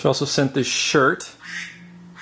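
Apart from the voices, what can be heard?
phone ringtone that quacks like a duck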